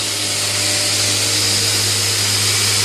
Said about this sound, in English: So that's my new belt grinder